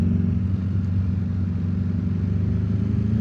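A motorcycle cruising on a road around Houston, its engine a steady, fairly loud mid-pitched drone mixed with wind rumble, holding constant throughout.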